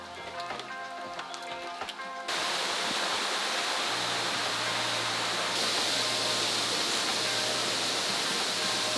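A jungle waterfall in Belize during rainy season keeps up a steady, loud rush of falling water with a low hum underneath, after a short stretch of quieter, softer background sound at the start.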